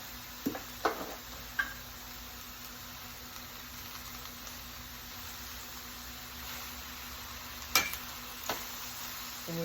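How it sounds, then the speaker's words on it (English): Portabello mushrooms and onions frying together in a big skillet give off a soft, continuous sizzle, broken by a few sharp utensil clinks as they are stirred. "We move them around a little bit after we let them sizzle for a while."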